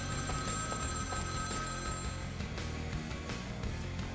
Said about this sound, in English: phone is ringing in the back.